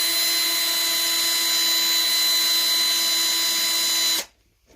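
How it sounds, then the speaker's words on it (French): An electric drill bores ventilation holes through the top of a plastic storage box, a steady high whine held loud and close for about four seconds before cutting off abruptly into silence. "la percer avec une perceuse sur le dessus pour faire l'aération"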